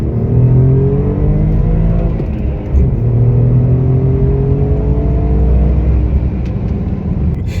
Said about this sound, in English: Now I'm gonna do a small acceleration test so that you can see how this car accelerates.